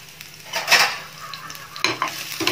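Ginger and garlic sizzle in hot oil in a pan for fish curry, with steady frying hiss, a couple of louder bursts and light stirring scrapes of a utensil against the pan.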